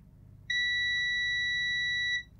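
A multimeter in continuity mode beeps across a shorted capacitor, giving one steady high-pitched electronic tone that holds unbroken for nearly two seconds before cutting off, close and clear over faint room noise.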